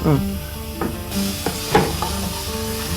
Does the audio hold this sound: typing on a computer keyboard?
no